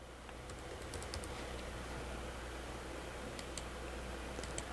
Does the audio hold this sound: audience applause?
no